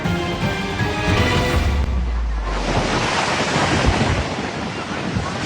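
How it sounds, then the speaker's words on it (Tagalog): Large ocean waves crash on the shore at Aparri, Cagayan, striking Coast Guard personnel: a loud, close roar of surf with heavy wind buffeting the microphone and a deep rumble as a wave breaks. "Malalaking alon ang humampas sa mga tauhan ng Coast Guard sa Apari, Cagayan nitong Biyernes Santo"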